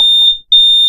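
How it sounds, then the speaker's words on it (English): A high, piercing smoke alarm beeps loud and steady, briefly cutting out for a moment before sounding again, with no voices. "I hear that alarm in the background"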